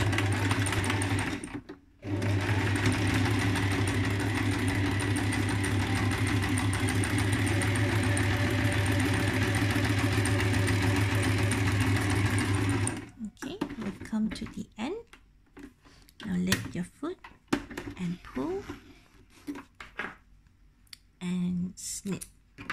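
Sewing machine stitching fabric gathers, running as a steady, close mechanical whir for about eleven seconds after a brief pause, then stopping, followed by snipping and handling noises while someone talks.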